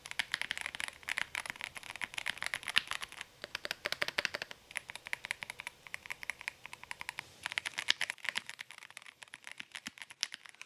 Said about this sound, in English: it's not a very loud keyboard. It's actually very, very, very subtle